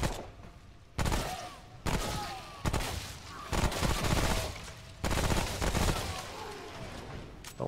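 Repeated bursts of gunfire in Remnant: From the Ashes, a run through a subway level, with sharp shot clusters returning roughly every second and close, loud reports over a busy game background.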